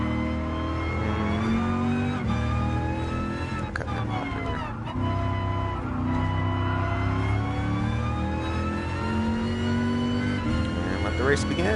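Race car engines in Gran Turismo Sport, a steady high-pitched whine rising and falling with gear changes, several cars close together and loud throughout, with game music or commentary mixed underneath.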